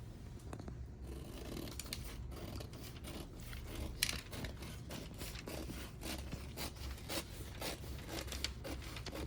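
Paper pattern being cut with scissors, a steady run of short crisp snips and rustling paper close by, with no talk.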